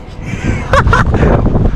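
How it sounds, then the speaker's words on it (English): Strong gusts buffet the microphone with a loud, continuous low rumble, rising midway. "Up here comes the wind again."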